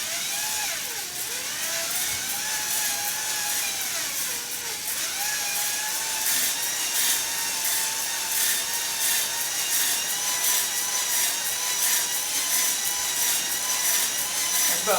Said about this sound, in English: That's about as much as I can slow down that drill motor and have it work effectively.